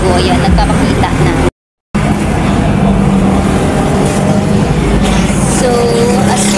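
Noisy city traffic, a constant loud rumble of passing cars and other vehicles with a brief dropout partway through, while a person talks over it.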